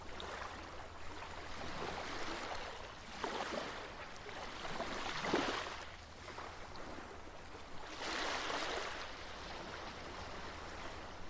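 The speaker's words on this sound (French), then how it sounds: "Sur cette plage calme et tranquille, délicieusement bercée par le rythme des vagues" Ocean waves roll onto a calm, quiet beach, a soft steady wash with several slow swells rising and falling, gentle and unbroken, with no voices.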